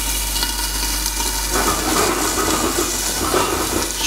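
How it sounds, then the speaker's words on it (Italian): Clams in a hot pan for spaghetti alle vongole, popping and sizzling as they release their water; a dense, steady crackle and hiss fills the pan, a little louder partway through, with no talk. "Sentite come scoppietta? Non sono i popcorn, sono le vongole che stanno a tirare fuori l'acqua."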